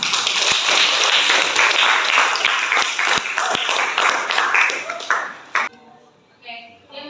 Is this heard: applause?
yes